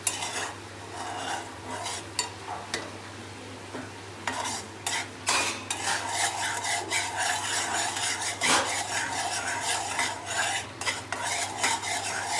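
Sugar syrup for a cashew tacos dessert is stirred in a pan, a spoon steadily scraping and rubbing against the metal in repeated strokes, close and continuous for several seconds with no talking.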